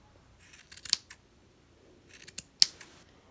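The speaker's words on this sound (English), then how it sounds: "I then go in with a really good pair of scissors." Sharp scissors trim the yarn ends of a crochet plaid throw blanket, two clusters of crisp snipping cuts close up, each ending in a louder snip, in an otherwise quiet room.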